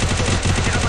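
Rapid, continuous gunfire bursts fill the clip, loud and dense like automatic weapons in a shooter game.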